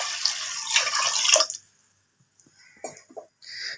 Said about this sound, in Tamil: இப்போ இதுக்கு தண்ணி தேவையான தண்ணி ஊற்றிக்கணும் வேகிறதுக்கு.